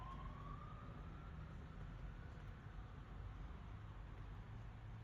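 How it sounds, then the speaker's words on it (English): A distant siren wails faintly under low traffic rumble in Jacksonville, a steady wash of sound with a rising tone at the start. "Sorry for the sirens"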